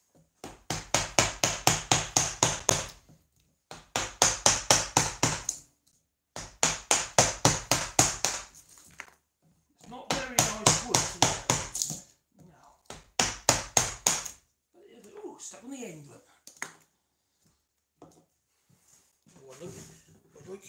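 Wood chiseled by hand with a chisel and mallet while building a sawhorse without screws: close, loud bursts of rapid rhythmic strikes in five groups, each a quick run of sharp knocks, followed by quieter handling noises.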